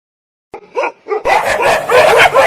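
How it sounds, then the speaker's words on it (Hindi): Stray dogs in a van bark loudly and close: a few sharp separate barks after silence, then a dense run of overlapping barking. "साहब, इस वैन में तो कुत्ते हैं। आवारा कुत्ते साहब"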